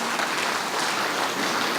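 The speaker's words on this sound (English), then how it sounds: "Let's clap for everyone in our school who make the year so" Crowd applause at a pre-primary school annual day ceremony, a dense steady clapping from a large audience that fills the hall without pause.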